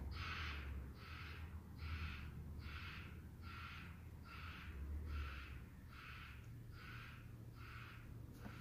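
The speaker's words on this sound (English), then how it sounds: "I'm sorry if you can hear my neighbor's bird." A neighbour's pet bird calls steadily in the background, giving about ten evenly spaced, fairly faint squawks over a low room hum, with no talking.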